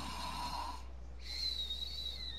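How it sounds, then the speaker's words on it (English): Snoring from a sleeping lookout character in the West of Loathing video game: a wheezy, whistling breath sound, steady and moderately loud, with a rising tonal whistle on the inhale. "Oh, he's snoring."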